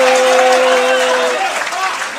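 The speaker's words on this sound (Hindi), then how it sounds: "बहुत बहुत तालियां भाई, वाह स्पेशल तालियां" Audience applause at a live Hindi political satire poetry recital, a dense, steady wash of clapping that holds loud throughout and eases slightly toward the end.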